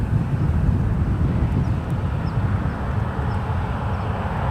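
A Delta airliner on its takeoff run from runway 1 right at San Francisco International Airport, a broad steady roar of jet engines heard from a distance, with wind buffeting the microphone throughout.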